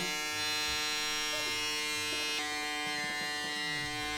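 A regular electric shaver, not a hair clipper, buzzes steadily while trimming sideburns, a close, continuous motorized hum with slight shifts in pitch as the head moves against the hair.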